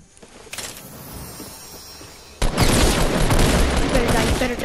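Assault rifle fire in Fortnite starts with scattered, quieter shots, then erupts into a loud, dense, sustained volley of rapid gunfire.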